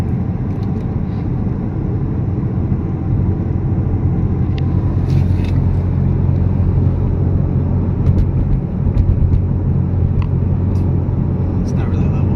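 Low, steady engine and road rumble from a 4-cylinder turbo Camaro cruising at a constant highway speed on cruise control while climbing a slight hill, with a speaker talking over the drone throughout.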